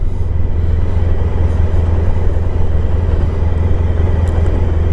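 A 1994 Honda ST1100 motorcycle coasts in third gear with no throttle, giving a steady, loud low rumble of engine and road noise that holds evenly throughout with no talking.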